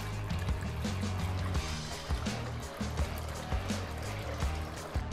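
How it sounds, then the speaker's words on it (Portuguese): Two liters of water poured into a pot for vegetable broth, a continuous splashing fill heard fairly quietly alongside low kitchen rumble. "Dois litrinhos de água vai aqui."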